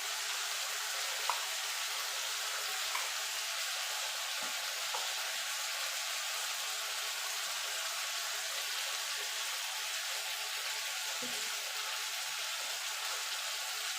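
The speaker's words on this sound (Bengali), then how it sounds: "সবজিটা ভাজা ভাজা হয়ে গেছে, দিয়ে দেবো আদা আর কাঁচা লঙ্কা বাটা।" Vegetables for a vegetarian Malabar spinach curry fry in a pan after ginger and green chili paste go in. A continuous, even sizzle is broken now and then by a soft clink of stirring, with no talk.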